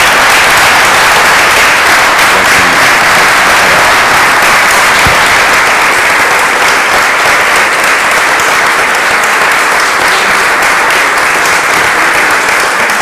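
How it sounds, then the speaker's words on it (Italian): A large audience at a festival talk gives loud, sustained applause, a dense unbroken roar of clapping hands that holds steady throughout. "salutatelo con l'applauso che merita"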